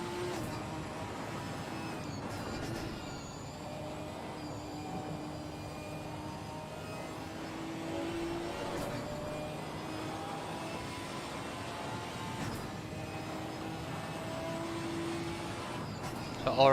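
Racing car engine droning steadily through a lap of Oulton Park in the Simufur GT4 sim racing game, a sustained mid-level whine with small pitch shifts as the car works through gears and corners, running continuously with no talk.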